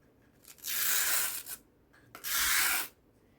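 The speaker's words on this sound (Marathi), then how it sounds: "आपल्याला असं साईडला रांगोळी टाकून घ्यायची," Rangoli powder pours onto the side of a wooden rangoli stencil mold in two steady hissing bursts of about a second each, close and fairly soft, with no talking.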